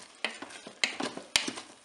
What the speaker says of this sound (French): Je vais mélanger un petit peu.